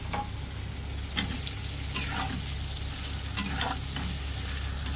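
Prawns fry in a sautéed spice masala with a dense, steady sizzle, punctuated by several scraping stirs of a spatula through the pan.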